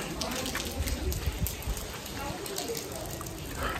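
Heavy rain pours steadily near the Hirakud dam, a dense hiss of drops hitting surfaces with low rumbling spatters that hold at an even level throughout.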